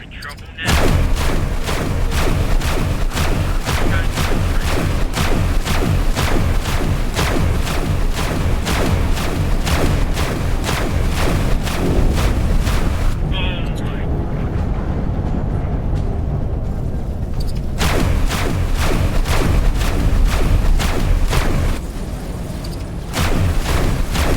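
Dense, rapid bursts of weapons fire and booming explosions from the space game X4 Foundations, a relentless rhythmic barrage that briefly thins midway before resuming at full intensity.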